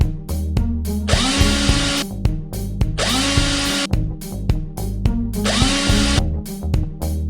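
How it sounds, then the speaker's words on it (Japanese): A power drill bores three small holes for a homemade DIY filtration unit, giving three loud, whining bursts of drilling of about a second each, separated by short pauses. "こんな感じで、3つの穴を開けます。"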